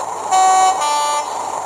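Two-tone horn of a Bachmann Class 37 model diesel locomotive played through a small iPhone speaker: two short, bright sustained blasts back to back against a faint background hum.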